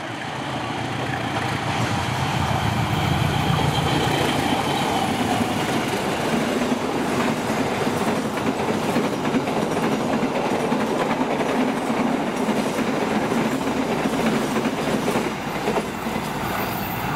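A commuter train rolls past on the rails, a loud, sustained rumble with rhythmic clickety-clack of wheels over joints and some metallic squeal, close by and steady throughout with no voices.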